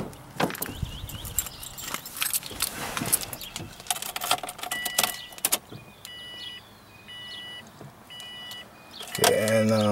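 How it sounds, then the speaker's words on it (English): Inside a 2002 Subaru WRX, scattered clicks and short electronic beeps come first, then near the end the engine cranks and catches with a rising roar. "I'm going to start the engine."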